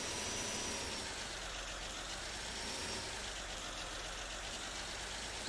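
A tractor engine idling in Farming Simulator 19, a steady, even mechanical drone with no change in pitch, heard alone at a moderate, close level.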